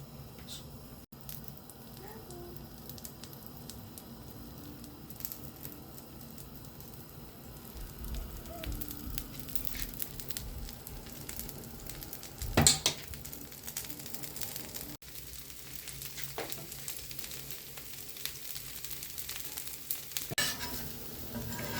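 Masala dosa frying in ghee on a pan gives a soft, low sizzle with faint stirring and scraping, one brief sharper clack partway through, and no talk over it.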